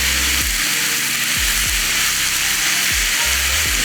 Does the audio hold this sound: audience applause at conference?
no